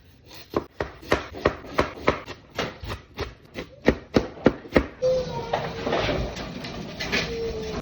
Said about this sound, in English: Now that my onion's chopped